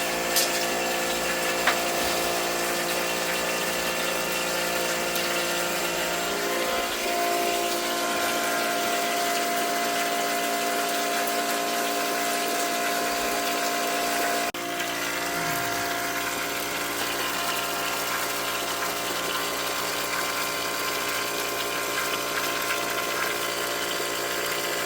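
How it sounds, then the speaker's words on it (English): A pump on a basement water heater runs with a steady, continuous mechanical drone and a watery wash throughout, close and unbroken, with no talking. "Pump is working."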